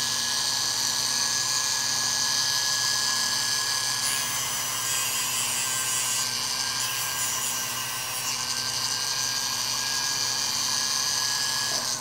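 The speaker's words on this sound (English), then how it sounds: "this is a diamond grit sanding disc." A rotary tool with a diamond grit sanding disc grinds enamel glass in a steady, close, high whine with a continuous abrasive rasp, shifting slightly in pitch under load.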